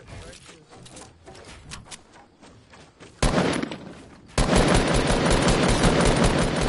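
Video game gunfire, with scattered shots and thuds at first, then sudden loud sustained bursts of rapid automatic fire, while players talk over it.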